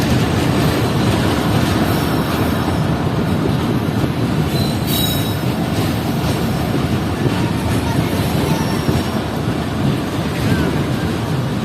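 Marvi passenger train rolling over sand-covered tracks in the Thar Desert, a loud continuous rumble of wheels and carriages with faint squealing, heard from on board, steady throughout.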